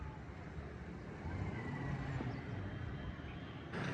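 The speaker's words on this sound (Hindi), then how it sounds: "ये आपको आवाज़ें आ रही होंगी, रोड के ऊपर बाइक ही बाइक हैं।" Evening road traffic crowded with motorbikes sounds like a steady, distant rumble of engines that swells and fades slightly and continues throughout, with no talking.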